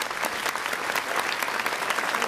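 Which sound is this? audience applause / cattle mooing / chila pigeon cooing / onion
audience applause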